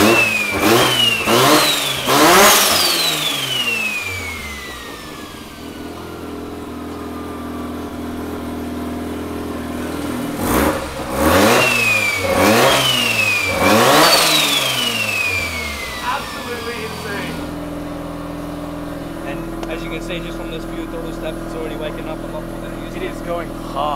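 Rebuilt big-turbo Mazda RX7 rotary engine revving hard in repeated bursts, climbing sharply then dropping back to idle, with a second round of revs after a pause; people talk nearby.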